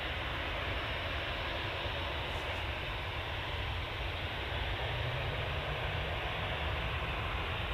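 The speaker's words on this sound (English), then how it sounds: "Next departure is this EasyJet." An EasyJet airliner bound for Bilbao departs Manchester Airport: a steady, fairly distant engine roar holds evenly throughout, with no talking.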